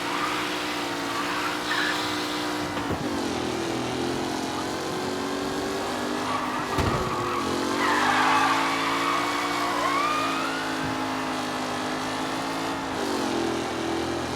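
Race cars in Mafia: Definitive Edition roar past on the final lap, with steady droning engines, shifting whines and a brief tire screech midway. The sound is continuous and fairly loud, with no speech.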